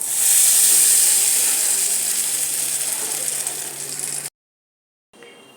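Hot tempering with curry leaves is poured into chutney and sets off a loud, close, hissing sizzle that slowly fades before stopping abruptly.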